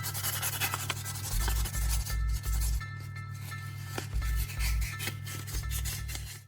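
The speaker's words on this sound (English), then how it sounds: "smooth the rubber surface lightly with sandpaper" Sandpaper rasps against a rubber valve surface in short repeated strokes, a dry scratchy rubbing sound, fairly close, with a low steady hum underneath.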